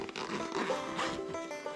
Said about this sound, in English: there's a zipper right here